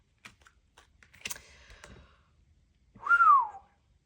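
A short whistled note glides up and then falls away, preceded by scattered soft clicks and taps like keyboard typing, with no talking.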